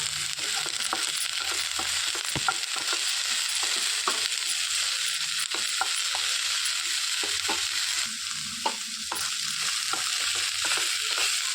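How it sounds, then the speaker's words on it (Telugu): Ivy gourd pieces fry with tamarind and salt for a coconut chutney, a steady close sizzle running throughout with scattered scraping stirs of a spatula against the pan. "మంచిగా కలిపి ఫ్రై చేసేసుకోవాలండి"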